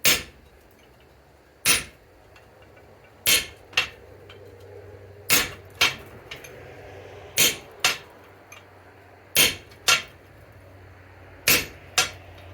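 Hammer strikes hot steel laid on the cutting block of a London pattern anvil, a sharp metallic clang about every two seconds, mostly in pairs: a strong blow and a lighter follow-up. Between the blows there is a faint low hum.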